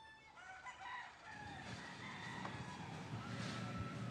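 Chickens cluck and a rooster crows, moved into a sheltered shaded area under a building inside a compound, with a steady low background hum underneath.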